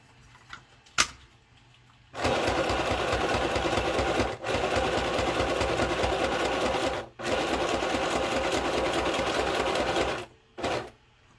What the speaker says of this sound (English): Now I'm just going to sew all the way around the outside a couple of times.